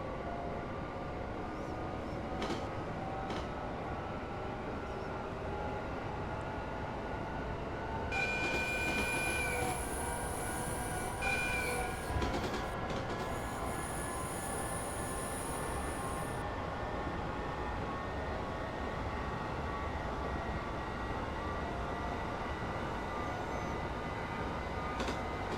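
A six-carriage Japanese train in Train Simulator Classic rumbles steadily along the rails, a continuous low roll with a high whine rising midway and fading, no voices.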